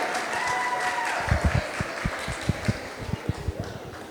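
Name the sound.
audience applause for a performance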